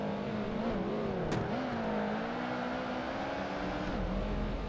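Race car engine in Project Gotham Racing 2, a steady loud drone whose pitch climbs and dips gently as the throttle changes, with no talk over it.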